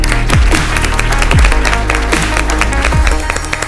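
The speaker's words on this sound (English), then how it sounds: "Please give her a big round of applause." A studio audience at a televised school spelling bee claps, a loud, dense, continuous applause that keeps going for several seconds with no voices over it.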